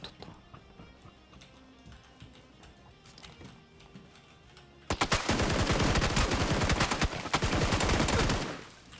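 Rapid bursts of automatic gunfire in the battle royale game PUBG erupt loud and dense after a quieter stretch, sustained for several seconds with sharp repeated cracks before cutting off.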